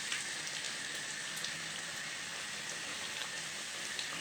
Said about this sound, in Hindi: प्याज को लाइट फ्राई करेंगे।